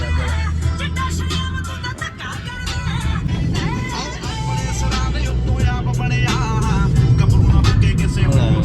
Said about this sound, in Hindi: गाड़ी आई